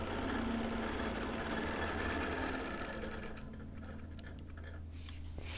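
A sewing machine free-motion quilting a wholecloth quilt runs steadily with a fast mechanical needle rattle, close and continuous, easing slightly in the last couple of seconds with a few small clicks.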